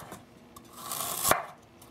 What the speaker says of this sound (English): So if you take it and slice it as thin as you can, use a really sharp knife